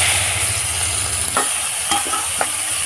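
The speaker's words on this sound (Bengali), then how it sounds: "পেঁয়াজ ভাজা তেলের মধ্যে এবার নুন হলুদ মাখানো চিংড়ি মাছগুলো দিয়ে দিতে হবে।" Shrimp coated in salt and turmeric fry in oil left from frying onions, a loud steady sizzle with several scraping stirs of a spatula through the pan.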